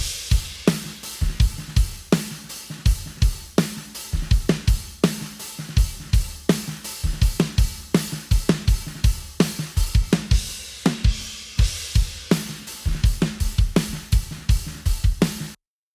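A recorded drum kit plays a song chorus with heavy, constant cymbal wash over a steady kick and snare groove, loud and close throughout.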